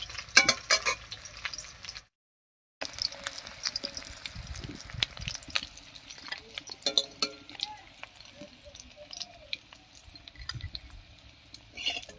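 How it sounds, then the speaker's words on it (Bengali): Dry red chilli and whole cumin spluttering in hot oil left in a wok after frying bora fritters, a steady close crackle with light stirring, briefly cut out near the start, under a voice. "ফোড়নের জন্য কড়াইতে দিয়ে দিচ্ছি একটা শুকনো লঙ্কা আর হাফ চামচ গোটা জিরা"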